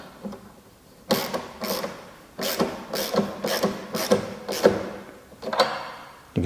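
Delkevic polymer carbon exhaust strap being tightened, a series of sharp ratcheting clicks in quick, slightly irregular pulls, close and fairly quiet.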